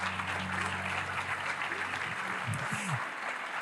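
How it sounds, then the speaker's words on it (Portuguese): Broad, even applause from a church congregation, moderately distant and soft, with a voice speaking over it near the end. "Se é para aplaudir, aplauda com força."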